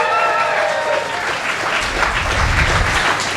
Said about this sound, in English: Give them a round of applause for tolerating that.